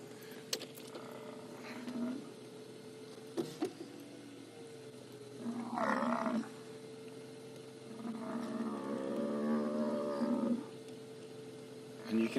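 A lioness at a kill lets out deep roaring calls in a few bursts over a steady engine-like drone, with low grunting swells rising and falling through the scene.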